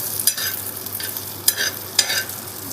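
Vegetables frying in a pan for a village-style chapati egg roll are stirred with a spatula, giving four sharp scraping strokes spaced about half a second apart over a steady hiss of sizzling oil.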